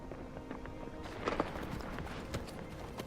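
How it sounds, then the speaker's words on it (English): Horse hooves clip-clop at a walk in a Game of Thrones scene, a few soft irregular hoof knocks over faint background ambience with brief voice-like sounds; quiet and somewhat distant. "Why did the horse come back without a rider?"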